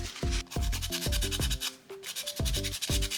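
Sandpaper rubbing the edges of a large resin D20 die in short, quick strokes, close and fairly quiet, with light tonal squeaks mixed into the scratching.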